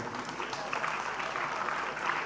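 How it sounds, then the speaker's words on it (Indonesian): A crowd at a school anniversary gathering of SMA NU Gresik claps for Pak Agus: a steady, fairly dense round of applause lasting the whole moment, with voices mixed in. "Tepuk tangan buat Pak Agus."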